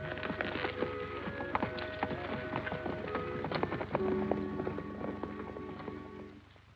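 Horse hooves clip-clop in a quick, steady rhythm at moderate distance, with scattered clinks and rattles over a low rumble.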